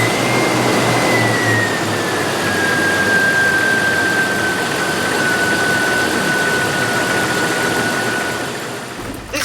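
The straight-six engine of a 1995 Jeep Wrangler YJ Sahara hums smoothly and steadily at idle outdoors, a constant broadband drone with a faint high whine, without voices.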